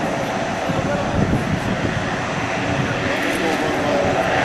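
A C-130J-30 Hercules on the runway at an air national guard open house and airshow, its turboprop engines applying thrust in a loud, steady, broad roar that holds without pause.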